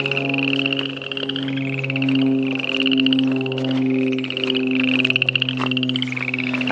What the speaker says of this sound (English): I don't know if you can hear all the frogs.